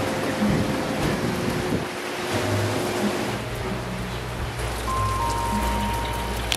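Steady rain pours down outside a house on a stormy morning, a dense, continuous wash of patter close by with a low rumble underneath, heard alone without voices.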